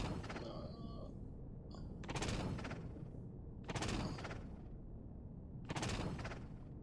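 Ship cannons firing in the space game Empyrion Galactic Survival, three long bursts of rapid gunfire spaced about two seconds apart over a steady engine hum.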